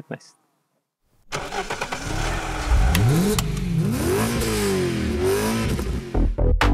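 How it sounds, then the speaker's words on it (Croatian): A Mercedes-Benz W115 with the OM616 diesel engine cranks and starts after a short silence, then runs and revs with rising and falling pitch sweeps, close and loud, with people talking over it. "Tu kuca čuveni motor nastao prije 50 godina"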